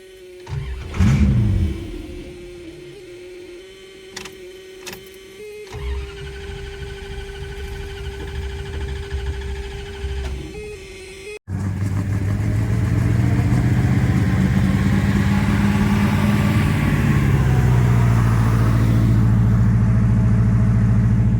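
Car engine of the Wasteland Weekend build car Matilda cranking over, then catching and running with a loud, steady rumble that rises and falls as it revs up close.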